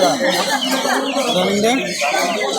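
Chickens clucking amid the busy crowd of a bird and animal market in Mirpur, Dhaka, with people talking loudly over the constant close clamor.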